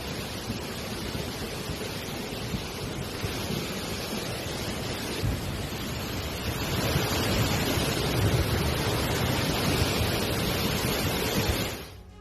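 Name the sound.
floodwater rushing in Guerrero, Mexico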